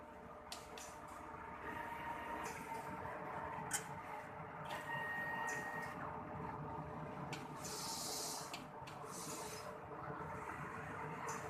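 An inkjet printer runs a nozzle test after head cleaning, making a faint steady mechanical whir with repeated short shuttling bursts and spray-like hisses, heard alone.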